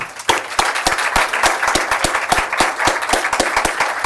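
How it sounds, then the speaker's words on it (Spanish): An audience at a medical expert forum applauds its speakers loudly, a dense, steady clatter of many hands clapping throughout with no one speaking. "les pedí un fuerte aplauso para nuestros ponentes"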